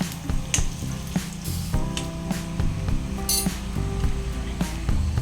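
Green chillies and curry leaves sizzle and crackle steadily in hot oil in a frying pan while tempering for ven pongal, with occasional light clinks of a utensil against the pan.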